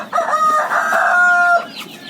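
A rooster crows loudly and close among fowl on a Thai poultry farm, one long harmonic call with faint clucking around it.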